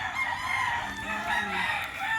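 Roosters crow over a busy background of clucking fowl on a gamefowl farm, steady and fairly loud throughout, with overlapping calls and no talking.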